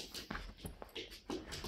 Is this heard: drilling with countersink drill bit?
no